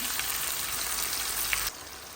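Steady, close sizzling of vegetables for pinakbet frying in a pan with bagoong, a continuous crackling hiss that drops to a quieter simmer near the end.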